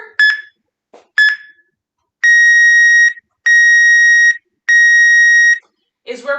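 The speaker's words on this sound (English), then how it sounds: "that beeper is going to go off here in just a second" A workout interval timer sounds three long, evenly spaced electronic beeps, loud and close, after two short chirps, with brief bits of voice at the start and end.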